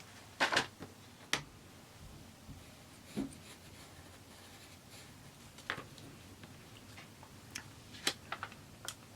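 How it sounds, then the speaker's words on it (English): A pencil traces a Christmas design onto a soft cut piece of lino through tracing paper, producing faint, sparse scratchy ticks and taps spread over quiet room tone. "Now I'm tracing my design onto my lino."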